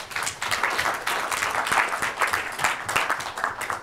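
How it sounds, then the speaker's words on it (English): Audience applause after startup pitches at a fintech pitch event, a dense steady wash of many hands clapping, fairly close and sustained, with little talk over it. "Let's give these guys a round of applause."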